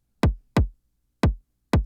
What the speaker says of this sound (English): Yeah, so just like a super distorted 808 sample.